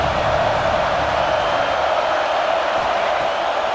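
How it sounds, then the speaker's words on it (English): A big stadium crowd at an American football game roars and cheers in a dense, steady wall of noise, loud and continuous throughout. "This crowd bringing the energy and noise early."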